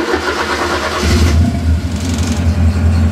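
A cheap, run-down Porsche engine cranks and catches, then settles into a steady, close, loud idle with a deep rumbling tone and slight unevenness.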